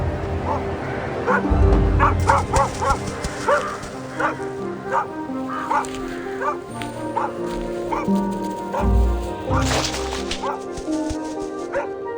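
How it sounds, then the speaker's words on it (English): Dogs bark and yip repeatedly outdoors in wild nocturnal country, steady clustered barking with a few louder bursts, carrying clearly over a low background with a voice speaking over it. "these barks in the distance alert the vigilant mother"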